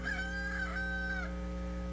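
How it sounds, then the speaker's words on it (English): A single rooster crow rings out clearly as a sound effect, a drawn-out cock-a-doodle-doo with a rising, wavering call over a steady low hum, with no talking. "Peter heard that rooster crow playing over and over and over again."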